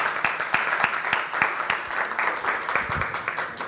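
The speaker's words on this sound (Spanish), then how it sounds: "Un fuerte aplauso, por favor" Applause from the audience at a conference lecture on political violence against women, many hands clapping in a steady rhythmic patter with a few sharper claps standing out.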